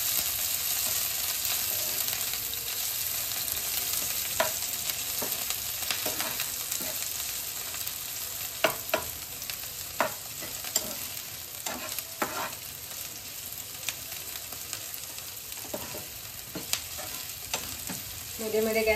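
Chopped capsicum sautéing in a pan over a low flame, a steady soft sizzle broken by intermittent scraping and stirring strokes of a spatula, close and fairly quiet with no talking.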